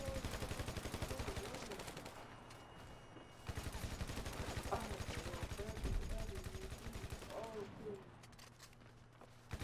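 Gunfire rattles through a video game shootout in rapid bursts, loud and close, while players talk over the shooting.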